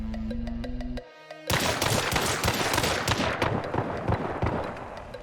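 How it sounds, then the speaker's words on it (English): Dolch pistol in the video game Hunt: Showdown fired at its maximum rate: a continuous burst of rapid, loud, closely spaced shots with a steady rhythm, following a brief quieter moment with a low tone. "If you're firing at the max rate of fire with the Dolch, your recoil will look like this."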